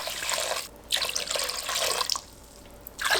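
Vinegar, 850 ml of it, pours from a container into a pot for a young summer radish (yeolmu) pickle brine with sugar and coarse salt, a steady liquid splashing in bursts broken by brief pauses, close and alone.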